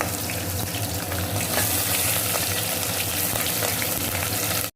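Onion and green chili sautéing in a pan for basmati biryani: a dense, steady close sizzle with light stirring scrapes, continuous throughout and ending abruptly, no voices.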